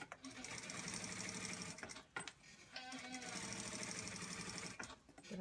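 A sewing machine stitches around a boy's shirt neckline in quick rhythmic bursts, with two brief pauses where the fabric is adjusted before the fast, even whirring resumes.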